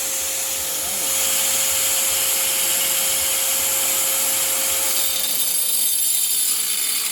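Steady, loud grinding whine of a power tool cutting out the old rusted floor pan of a 1969 Oldsmobile 442, running continuously and close, with a sustained drone throughout.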